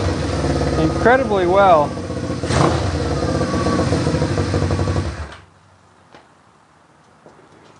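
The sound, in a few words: motorcycle engine idling after carburetor cleaning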